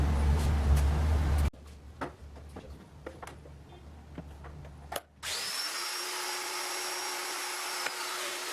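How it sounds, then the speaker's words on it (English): A loud power tool runs briefly, followed by quieter tapping and handling, then a steady high whine of a drill boring holes in rimu drawer fronts, close and continuous. "I could drill the holes for the hardware to attach the drawer fronts."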